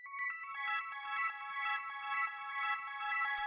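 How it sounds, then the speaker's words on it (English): A soft electronic synth atmosphere from an organic, textured electronic production, with sustained layered tones and a gently pulsing shimmer, played alone and steady throughout. "The next sound that we have here is this little synth atmosphere thing,"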